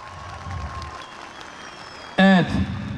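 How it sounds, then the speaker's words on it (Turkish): Crowd applause at an outdoor political rally in Gerze, Sinop, steady clapping for about two seconds before a loud amplified voice cuts in over it. "Ayrım yapmadan hepsini bir alkışlayalım mı?"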